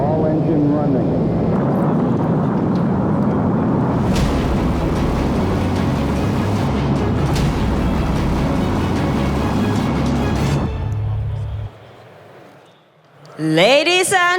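A loud, continuous rocket-engine launch roar played as a staged effect at the Slush 2016 tech event in a large hall, rumbling steadily for about eleven seconds before dropping away, with a voice briefly heard at the end.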